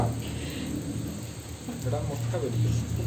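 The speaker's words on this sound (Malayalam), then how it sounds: "പുറത്ത് നല്ല മഴ" Heavy rain falls outside during a storm, a steady broadband wash with a low rumble, heard from indoors near a wood-fired stove where eggs are frying.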